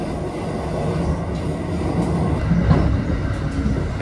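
Thunderbird limited express train running on the line between Shin-Hida and Tsuruga, heard as a steady, loud low rumble of wheels and rolling stock throughout, swelling slightly midway.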